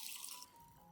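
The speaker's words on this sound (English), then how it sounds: "Add about 500 milliliters of clean water to dilute." Clean water being poured into a cup holding three tablespoons of rice, a brief hissing, splashing stream that tails off into a quieter trickle.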